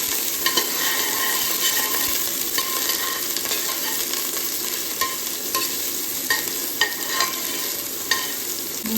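Ginger sautéing in heated oil for a crab and vegetable coconut-milk dish. A steady, close sizzle hisses throughout, with light stirring clicks and scrapes dotted over it and no voices.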